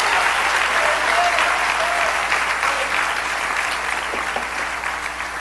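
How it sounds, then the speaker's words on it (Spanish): A church congregation applauds during a sermon, a dense sustained clapping from many hands that fills the room at steady loudness and tapers slightly toward the end. "denle un aplauso a ese Jesús, al verdadero"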